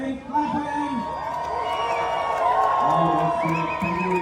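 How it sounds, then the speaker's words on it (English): A crowd at a boat festival in Goa cheering, whooping and clapping, with lively voices rising together over a sustained, fairly loud wash of applause and shouting. "Can you make some noise once again? Clap for them."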